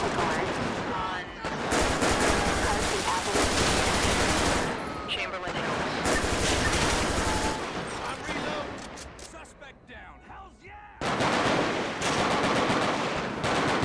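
Sustained automatic gunfire from a GTA 5 police patrol fight, dense bursts that fill most of the stretch, briefly thinning near the end before resuming loud; a voice speaks over parts of it.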